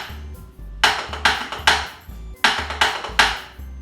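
A drum plays the single stroke seven rudiment with accents on the beat. Crisp, close strokes come in quick bursts, with a louder hit starting each group, repeated evenly several times with no talking.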